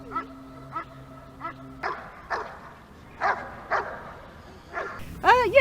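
A police dog barks in a run of sharp, evenly spaced barks, fairly close and growing louder and more excited toward the end.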